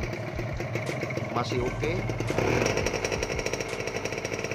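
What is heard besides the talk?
Kawasaki Ninja RR 2015 motorcycle engine idling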